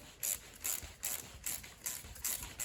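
Ratcheting tool tightening a worm-drive clamp on a VW swing axle boot, a close, steady series of crisp ratchet clicks, about seven strokes in quick rhythm, no talking.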